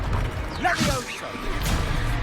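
Levioso levitation spell cast during a duel in Hogwarts Legacy, a swelling magical whoosh with creaking, mechanical shimmer and rising sweeps, fairly loud and continuous over game ambience.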